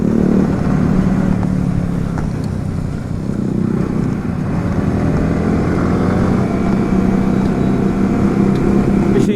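Motorcycle ridden on a hilly road to Sajek Valley, a steady loud engine drone with wind and road roar filling the whole stretch, no talking.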